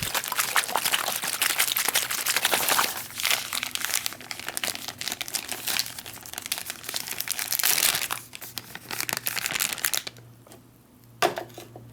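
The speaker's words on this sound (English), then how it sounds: "Seal up the bag and give it a nice good shake." A sealed MRE flameless heater bag for an XMRE cheese tortellini meal is shaken hard, its plastic crinkling and rustling loudly and continuously for about ten seconds before stopping, with a brief final rustle.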